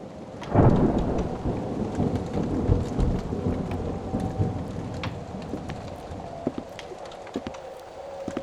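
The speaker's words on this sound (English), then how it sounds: "This storm really is not letting up" A heavy thunderstorm opens with a sharp, close thunderclap, then rolling rumbles continue over a constant wash of heavy rain, with scattered drips and taps throughout.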